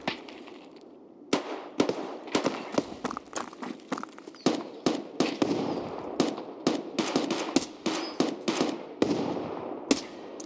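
Loud gunfire in Escape from Tarkov 1.0 PVE, a heavy gun fired in irregular single shots and short bursts, sharp close cracks over a steady ambient background with no talk.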